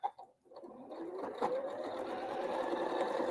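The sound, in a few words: sewing machine sewing quilt block seams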